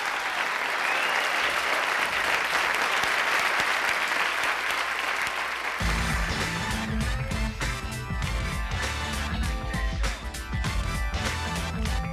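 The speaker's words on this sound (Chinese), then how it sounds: "徐若瑄拍拍手" A television variety-show audience claps steadily through the first half; then the applause gives way to loud band music with heavy low-end beats, and scattered clapping carries on underneath.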